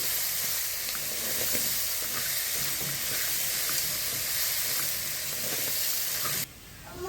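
Freekeh-stuffed chicken sizzling and frying in a pan while being stirred, a steady loud crackling hiss that runs throughout and drops away abruptly near the end.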